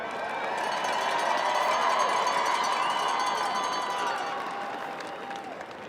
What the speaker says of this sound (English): let's give them, both teams,